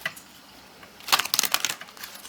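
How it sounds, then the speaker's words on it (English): Tarot cards being shuffled, a short burst of crisp riffling and flicking after a quiet start, close and fairly soft with no talking. "One more shuffle."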